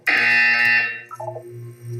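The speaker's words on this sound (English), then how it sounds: "When you hear the buzzer, look up at the ceiling." A harsh, loud electronic buzzer in the video game Portal 2 blares for under a second, then drops into a lower wavering hum that fades out.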